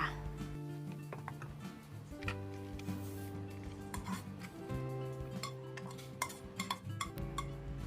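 Stir-frying pink rice noodles with vegetables in a pan: repeated metallic clinks and scrapes of a utensil against the pan, irregular and close, with someone talking over it.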